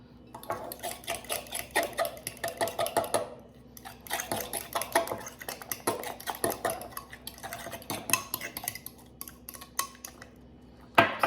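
Utensils scrape and clink against a bowl as a fried shrimp salad is stirred, a steady run of close, irregular clatter with short pauses and no talking.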